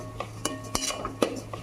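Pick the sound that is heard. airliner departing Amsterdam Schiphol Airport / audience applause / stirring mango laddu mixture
stirring mango laddu mixture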